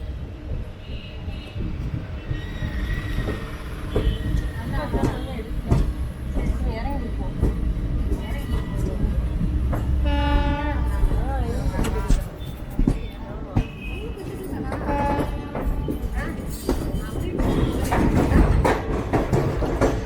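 A Trichy Intercity Express train rolls into Dindigul junction, carriage rumble and clattering wheels heard from on board, with someone talking over the steady rolling noise and brief metallic squeals.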